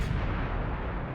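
A heavy KV-2 tank cannon booms in World of Tanks, its loud, dense blast rumbling continuously through the whole short moment.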